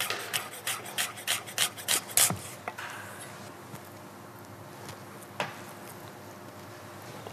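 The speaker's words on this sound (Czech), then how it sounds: "Tady mám vařené vajíčko natvrdo. Trochu ho nastrouhám." A hard-boiled egg grated in a kitchen makes a quick series of rhythmic scraping rasps at close range, followed by a faint lingering hiss and one last soft scrape.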